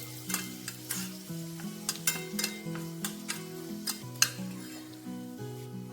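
Fenugreek seeds, curry leaves and cut dried red chillies sizzle in hot oil while a spoon stirs them, leaving sharp metallic scrapes and clinks at an uneven rhythm over the frying hiss, with no voices.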